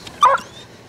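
A hunting dog in prickly vines gives one sharp, loud bark close by, followed by a faint whine against quiet background.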